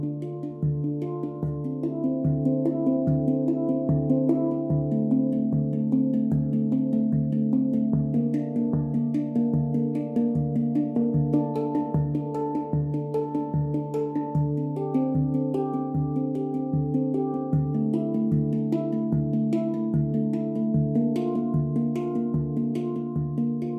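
A handpan plays a steady trance groove, its ringing melody notes alternating from one loop to the next over a repeating pulse, with sustained overtones. It sounds close and even, with no voices.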